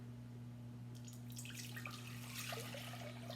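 Liquid poured from a container into an empty cooking pan, starting after a moment as a rising splashing, gurgling stream over a steady electrical hum, close and moderately loud, no talking.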